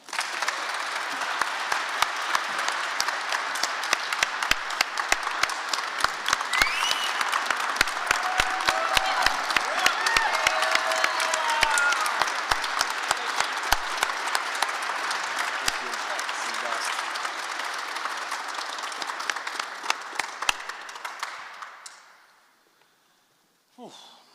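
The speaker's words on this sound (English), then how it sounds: "All right, one more round of applause." A crowd at a volleyball press conference applauds in a long, steady, dense round of clapping lasting about twenty seconds, with scattered sharper claps standing out, before it fades away into near silence.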